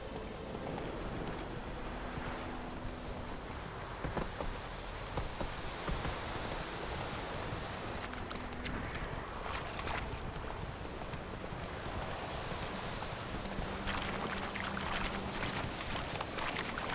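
Hooves clip-clop in a steady rhythm as Ciri's horse Roach gallops in The Witcher 3, set against a constant wash of rain-like noise across the whole stretch.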